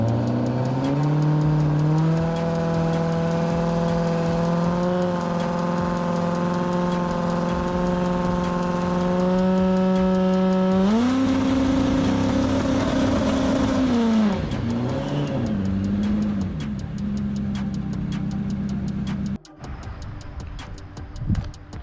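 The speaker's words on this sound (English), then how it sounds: "grab the trans brake, hit the gas, hit the limiter, and then we'll see if the car settles" Turbocharged 5.0L Coyote V8 drag car held on the trans brake, revving steadily then climbing hard to the rev limiter, loud and close with a rising whine before the engine drops off near the end.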